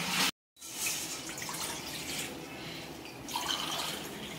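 Two tumblers of water poured into a pan while making rava kesari, a Tamil semolina sweet, giving a continuous splashing pour after a brief silent gap, close and fairly loud with no speech.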